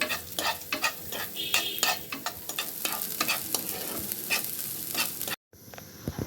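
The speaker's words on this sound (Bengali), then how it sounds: "ভুট্টা এক কাপ একটু ভেজে নেব" Corn kernels frying in ghee in a pan, stirred briskly with a spatula, a continuous sizzle broken by rhythmic scraping strokes, ending in a short silence before the sizzle returns.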